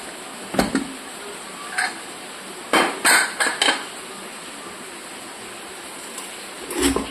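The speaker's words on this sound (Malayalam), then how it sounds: "ഇനി നമുക്ക് കുക്കറിന്റെ മൂടി തുറന്നു നോക്കാം." A pressure cooker lid is opened in a home kitchen, giving a few sharp metallic clanks and clicks in quick succession, with quieter knocks before and after, close and with no one speaking.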